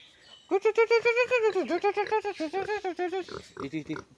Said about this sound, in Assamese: আমাৰ গাহৰি এজনী আছে সৰু